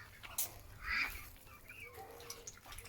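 Farmyard fowl on a morning homestead squawk and cackle in short, faint bursts, with a couple of sharper cries standing out over quiet outdoor background.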